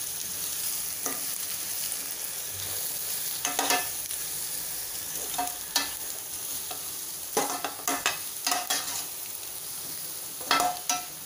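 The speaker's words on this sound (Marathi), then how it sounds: "लाल मिरची पावडर, हळद, हिंग छान मिक्स करून घ्यायचं आहे." Red chili powder, turmeric and asafoetida stirred into hot oil with onion for kanda batata poha, a continuous sizzle broken by scattered utensil scrapes against the pan, and no one talking.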